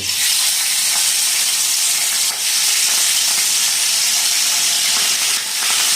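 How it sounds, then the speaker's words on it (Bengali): Prawns frying in hot oil in a kadai, a loud, steady broadband sizzle close up with no talk. "কড়াইয়ের তেল গরম হয়ে গেছে, আর এখন চিংড়ি মাছগুলো আমি ভেজে নেব"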